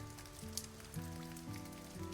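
Rain patters softly and steadily in the video game Nameless, faint beneath a sustained, stepping musical tone that carries through the whole stretch, with no voices.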